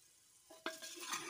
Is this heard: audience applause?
no